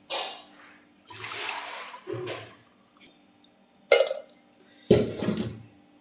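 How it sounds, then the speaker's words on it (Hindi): Straining an Ayurvedic kadha herbal drink for cold and cough, heard as several short bursts of liquid pouring and splashing close by, separated by quiet gaps, with a couple of sharp clinks of utensils. "काढ़े को हम छान लेते हैं।"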